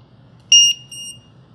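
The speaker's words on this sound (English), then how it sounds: "Because I can set this for a low voltage alarm." A LiPo battery low-voltage alarm on a plugged-in checker gives two short, shrill electronic beeps, the first louder than the second, over a faint low hum.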